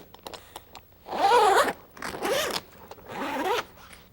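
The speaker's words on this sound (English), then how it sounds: "Release the Velcro flap and start to unzip them from the rear." Zipper being drawn open on the side window of a 1997-2006 Jeep Wrangler soft top, three separate close, rasping pulls with short pauses and a few small clicks between them.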